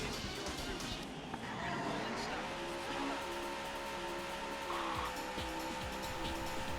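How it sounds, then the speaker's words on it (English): Race car engines in the Daytona USA arcade racing game rev up and drone with rising and then steady tones, mixed with game effects at a moderate level and a voice over the top. "start your engine."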